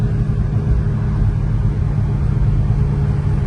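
A 1970 Mercury Cyclone Spoiler with a 429 Cobra Jet Ram Air V8 runs steadily, giving a loud, close, continuous low rumble with no talking.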